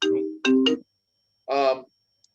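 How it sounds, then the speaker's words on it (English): A phone ringtone plays as short melodic chime bursts, two quick rings followed by a pause and a third, clear and close with silence between. "Had a phone call."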